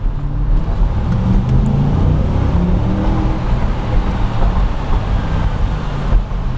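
An engine rumbles from inside a moving car as it slows and changes down into second gear, a loud low steady drone with tonal engine harmonics that shift slightly.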